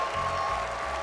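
A home crowd applauds during a standard ballroom dance competition heat in Russia, steady clapping held at a moderate level in the background, with a low hum running beneath it and no speech.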